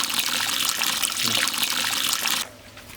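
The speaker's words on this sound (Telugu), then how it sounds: "అల్లం వెల్లిగడ్డ వేసినాక చింత పులుసు పోసుకోవాలి" Tamarind juice pours into a pan of fish curry with a steady, close splashing and trickling stream that runs for a couple of seconds and then quickly thins out, with no voices.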